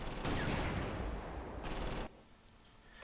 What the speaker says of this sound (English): Let the Stug send a couple of heavy explosive rounds into the town hall.